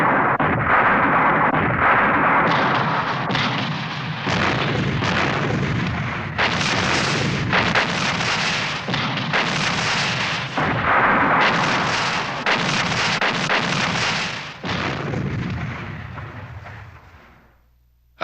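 A massed artillery barrage of about a thousand guns firing at daybreak near a forest in wartime Europe, loud continuous booming and rumbling with overlapping heavy blasts, fading out at the end, no voices.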